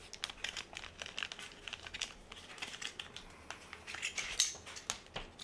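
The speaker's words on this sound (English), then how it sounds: "Take it out of the bag, got a nice little sticker here, set that aside, got my hardware." Benchmade aluminum scales for a Griptilian knife being pulled from a plastic bag: soft, close crinkling and rustling in quiet bursts with a few sharper crackles, and no talking.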